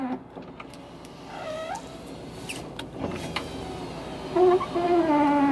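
A Cadillac Seville's power window motor whirs as the window lowers partway, a strained mechanical whine rising and falling over a few seconds, close by inside the car, with light handling noises around it.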